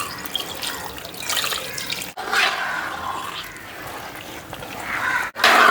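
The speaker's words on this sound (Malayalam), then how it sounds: "2-ാം പാൽ ഒഴിച്ചു കൊടുത്തു." Second coconut milk being poured into a simmering payasam, a steady liquid splashing and trickling that runs continuously for several seconds with no talking.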